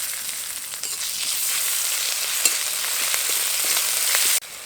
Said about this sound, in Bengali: আদা রসুন বাটা দেওয়ার পর খুব ভালোভাবে একটু ভেজে নিয়েছি